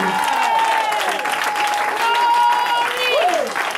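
Church congregation at a prophetic ministry service in Aachen clapping steadily and loudly throughout, a dense continuous patter of hands under a preacher's voice and crowd noise.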